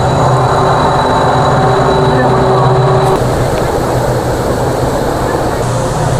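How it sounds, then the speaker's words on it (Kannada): A train passes near Dudhsagar waterfalls in Goa, a loud, unbroken roaring rumble that stays strong throughout, thinning a little midway, blended with the constant rush of falling water nearby. "ಅಲ್ಲಿ ಟ್ರೈನ್ ಬರ್ತಾ ಇದೆ ನೋಡಿ"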